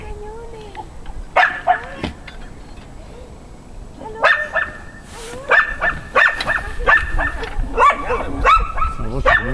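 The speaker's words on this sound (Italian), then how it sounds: "fammela abbaiare e la confermi" Dog barking during a hunting or training field exercise, with repeated sharp yips and barks in bursts, fairly close, over outdoor background noise and some handler chatter.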